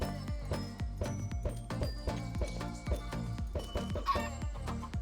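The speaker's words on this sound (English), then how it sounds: "Okay, 2 chickens. We don't need 2 chickens." Chickens clucking in the Minecraft video game, heard as short repeated clucks over a steady, rhythmic backdrop of game sounds, with no talking.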